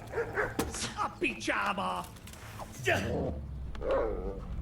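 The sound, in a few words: dog barking in the video game Kingdom Come: Deliverance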